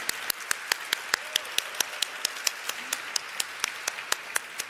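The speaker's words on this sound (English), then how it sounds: "let's have a huge round of applause for Ajax Engineering Limited" At the live stock market listing of Ajax Engineering Limited, the crowd claps in a crisp, evenly spaced rhythm, sharp beats falling about every fifth of a second over a faint hum of room noise.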